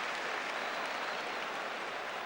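Steady, dense applause from a big football crowd at Stoke City versus Arsenal, a brief continuous roar of clapping hands at even loudness, with no talk.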